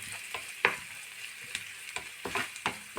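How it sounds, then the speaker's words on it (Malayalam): Chopped onion frying in a pan makes a soft, continuous sizzle, broken by several sharp scrapes and taps as it is stirred. "ഒരു സവാള അരിഞ്ഞത്, ഇതൊന്ന് ഫ്രൈ ആയിട്ട് നമുക്ക് കിട്ടണം."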